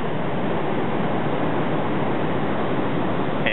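Heavy surf at Camps Bay in winter, with large ocean waves breaking in a continuous loud, broadband roar that stays steady from start to finish, with no voices over it.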